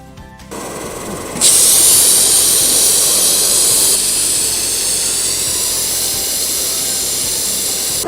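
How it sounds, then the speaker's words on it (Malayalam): A pressure cooker on high flame, used for a Kerala-style tapioca biryani, bursts into a loud, sustained, hissing whistle after a short quiet lead-in, holding steady and close for several seconds. "ആദ്യത്തെ വിസിലടിക്കുന്നത് ഫ്ലെയിം കൂട്ടി വെച്ചിട്ടാണ്."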